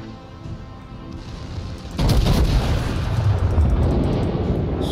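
Warship cannons fire in the naval battle game World of Warships, with a heavy booming salvo at about two seconds. A dense, rumbling roar of gunfire follows and holds loud to the end over a steady engine-like drone.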